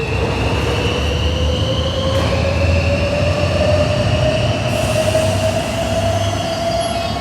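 An Inspiro metro train departs Natolin station on the Warsaw Metro, its motors whining with steadily rising tones and the wheels rumbling loudly and continuously close by.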